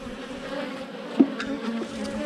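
A steady, dense hum of many honeybees buzzing close by at a hive, with a brief louder drone passing near the middle.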